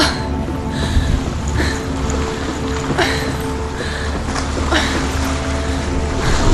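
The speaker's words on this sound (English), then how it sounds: "Dude, that water sounds so weird." Water ambience in the video game Hellblade: Senua's Sacrifice, a steady rushing wash of surf-like sound with soft splashy swells throughout, fairly loud, with no talk over it.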